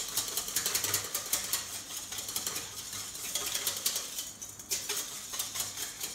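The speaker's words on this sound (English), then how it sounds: "into that I whisk 2 tablespoons of Gravox" Gravox gravy powder is whisked into liquid in a bowl, producing rapid, rhythmic clinking and swishing strokes up close, fairly quiet and steady.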